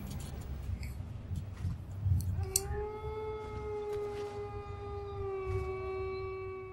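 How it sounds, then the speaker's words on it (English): A sustained wolf-like howl in the Metal Gear Solid 2 video game rises in from about two seconds and holds steady with harmonics over a low rumbling game background, with no talk. "Is he doing the howling thing because of the wolves from the first game?"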